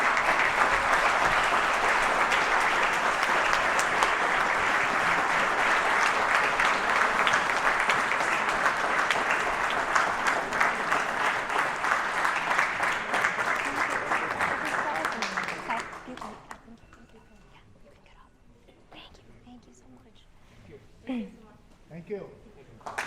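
A large crowd applauds the members of a newly formed Asian Community Watch at a council member's event, producing a loud, dense, sustained roar of clapping that stops abruptly about two-thirds through and gives way to quiet room sounds and faint voices.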